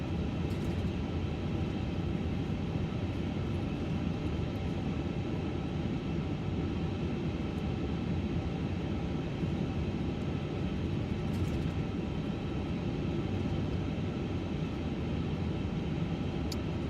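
An iniBuilds A350 airliner taxiing off the runway in a flight simulator at Singapore, with a steady, continuous engine and rolling rumble throughout and no voices.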